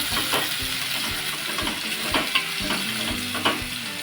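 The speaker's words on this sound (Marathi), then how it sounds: "दोन मोठे कांदे चिरून घेतलेले आहेत ते आपण घालून टाकणार आहोत आणि दोन मिरच्या हे आता आपण व्यवस्थित असं पटकून घेऊया" Two large chopped onions and two green chillies stir-fry in a pan for a banana-flower bhaji, a steady close sizzle broken by repeated spatula scrapes and stirring knocks.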